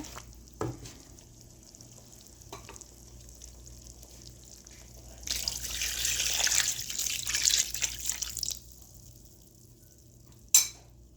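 Broth is poured into chicken korma cooking in a pot, a few seconds of splashing and sizzling after quiet clinks of utensils, ending with a sharp knock of metal.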